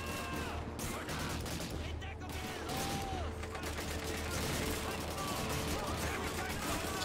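Sustained battle gunfire from Call of Duty 2 on Xbox 360, a dense bed of distant rifle and machine-gun shots rolling on continuously, with a voice talking over it.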